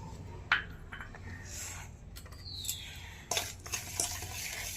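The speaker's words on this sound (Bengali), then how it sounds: "চিনির গুঁড়া, দুধ, সাদা তেল ভালো করে মিশিয়ে নিতে হবে।" Spoon stirring powdered sugar, milk and white oil together in a bowl for an eggless vanilla sponge cake batter, faint scraping and clinks against the bowl, with a few sharper taps, quiet and close.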